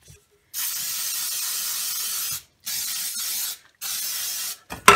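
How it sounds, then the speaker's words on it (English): Baker's Joy baking spray coats cake pans in three separate bursts of loud aerosol hiss, each lasting about one to two seconds and separated by brief silences, ending in a short clatter. "I spray my pans with Baker's Joy."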